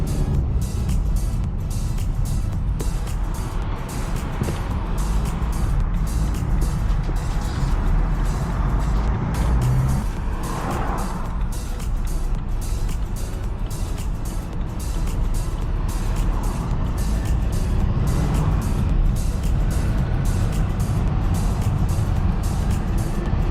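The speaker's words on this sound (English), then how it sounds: "We hear the power of that 2 litre diesel" Steady engine and road noise from a BMW F30 316d saloon with a 2-litre diesel, heard from inside the cabin as it accelerates, a continuous broadband rumble with a couple of swelling pushes, no talk.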